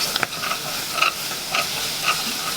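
Cranberries cooking with sugar in a pot over medium heat, a soft steady simmering hiss with a few faint pops here and there, no voices.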